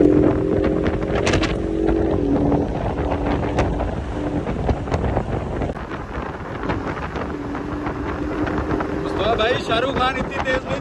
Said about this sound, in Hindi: अब आपको आवाज़ सुनाना चाह रहे हैं गाड़ी की ना